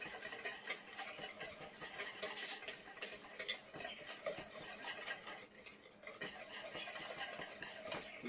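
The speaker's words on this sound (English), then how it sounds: "So I'm just going to whisk this together." Whisk beating lime juice marinade in a bowl, a quick, close, continuous metallic clatter and swish against the sides with brief pauses, no voices.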